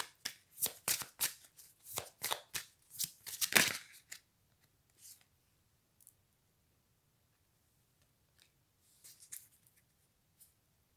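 Tarot cards are shuffled and drawn in a quick run of crisp riffling flicks, close and clear, then a few sparse soft card slides and taps in near silence.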